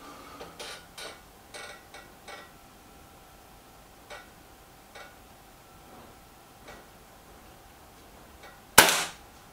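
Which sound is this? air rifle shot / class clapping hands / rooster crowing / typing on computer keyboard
air rifle shot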